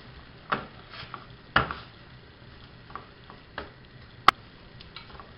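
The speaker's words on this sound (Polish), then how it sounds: "z pieczarkami dodaję kiełbaskę, szczyptę chili, można też dodać troszeczkę mielonej słodkiej papryki dla koloru. Wszystko wymieszam." Mushrooms and sausage with a pinch of chili being stirred in a frying pan, giving a few scattered scrapes and clicks over a quiet, soft background sizzle.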